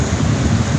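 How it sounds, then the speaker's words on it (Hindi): Heavy rain and strong stormy wind at a hospital in Gondawala, a dense, steady roar of downpour with gusting wind that stays loud and unbroken throughout, with no voices. "अब बहुत तेज़ बारिश है और काफ़ी हवा तेज़ चल रही है"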